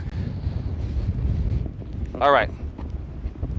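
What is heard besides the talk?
strong wind blowing on a walk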